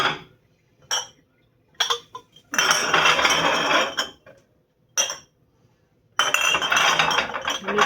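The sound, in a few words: canning jars clinking as they are loaded into a microwave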